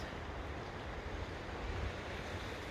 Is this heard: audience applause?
no